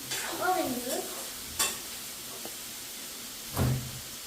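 Beetroot sautéing in a pan in a home kitchen: a soft sizzle under a few distinct scraping stirs, with a louder clatter near the end.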